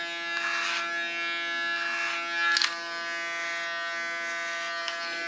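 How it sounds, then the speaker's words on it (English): Electric hair clipper buzzing steadily and close up during a barber haircut while shaping a soft front hairline and facial lines, with a few brief louder surges as the blade works through the hair. "Use my clipper as a comb again."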